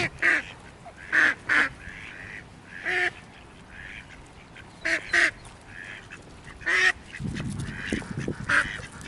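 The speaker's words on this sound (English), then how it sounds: "Are you afraid of ducks?" Ducks quack repeatedly near a fishing spot by the water, loud bursts of short nasal calls in irregular clusters, with some low rustling and handling noise toward the end.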